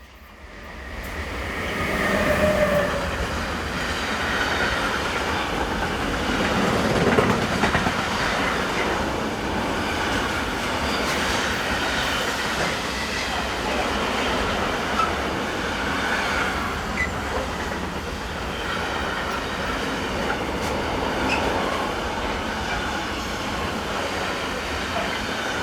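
A locomotive-hauled passenger train led by 193711 runs through a station on a Neuss to Gallarate working, a continuous rolling rumble with rail clatter and a faint wheel squeal, steady and fairly close throughout.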